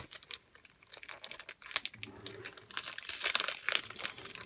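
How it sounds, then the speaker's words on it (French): Foil wrapper of a Pokémon Sun & Moon Unbroken Bonds booster pack crinkling and tearing open, a run of close, sharp crackles and rips that grows busier toward the end. "on va s'ouvrir ça plus un booster parce que Enzo avait aussi le sien"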